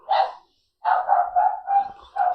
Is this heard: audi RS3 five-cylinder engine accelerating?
no